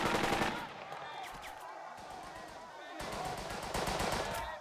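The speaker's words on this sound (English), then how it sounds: "At first, a machine gun fire." Machine gun fire in the WW2 tactical video game Burden of Command: a loud, rapid rattling burst opens, then a lower stretch of battle noise, and a second sustained volley of quick shots near the end.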